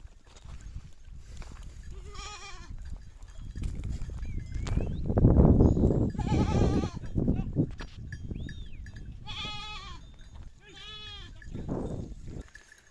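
Several domestic dairy goats bleat repeatedly nearby, their wavering cries overlapping with shuffling and rustling movement.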